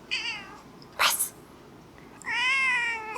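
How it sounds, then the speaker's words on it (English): Pet cat Cypress meows in a few distinct calls, a short meow, a brief noisy burst, then a longer drawn-out meow, close and fairly clear in a quiet room. "Would you guys like to see my cat? The one who keeps talking?"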